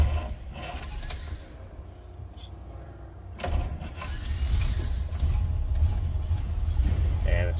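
Engine of a 1934 Pierce-Arrow 836 Brougham cranking and catching, rising into a steady low idle rumble that fills the rest, with mechanical clicks and clatter near the start.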